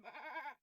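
A single sheep bleat from an indie dragon-themed video game: one wavering, nasal cry lasting just over half a second, clear and close, followed by a short tail of softer game sound, with no talking.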